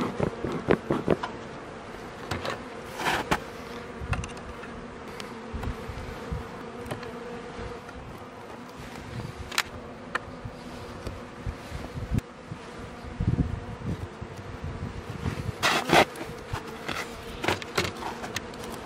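A steady drone of many honeybees buzzing around a hive, with occasional louder passes near the microphone and light wind noise.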